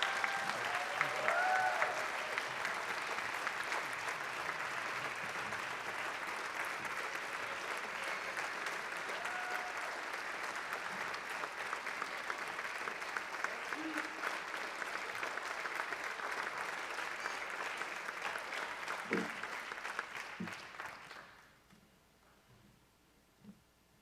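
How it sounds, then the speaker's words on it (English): Audience applause at a school district meeting honoring a retiring staff member, steady clapping from a sizeable crowd lasting about twenty seconds before fading out abruptly. "A round of applause for Mark Nelson and his retiree."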